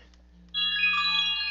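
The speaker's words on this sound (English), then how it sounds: "And there you can hear my iPhone ringing." An iPhone ringtone starts abruptly partway in, a bright electronic melody ringing clearly over faint background hum.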